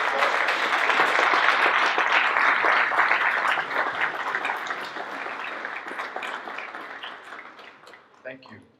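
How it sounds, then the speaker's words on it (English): A large crowd at a high school Junior ROTC awards ceremony applauds steadily and loudly, the clapping slowly thinning and fading toward the end, with a few last scattered claps. "Let's give them a round of applause."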